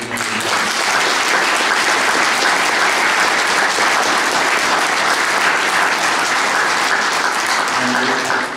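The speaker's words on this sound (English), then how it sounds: "I'd like that he get a round of applause for travelling down the road" A loud, sustained round of applause fills the room at an election nomination meeting, many hands clapping evenly without pause.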